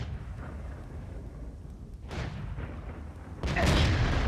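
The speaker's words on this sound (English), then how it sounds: "Oh, the freaking artillery!" Artillery fire in the tank battle game World of Tanks, deep booming blasts arriving twice, the second larger and louder, over a continuous low rumble.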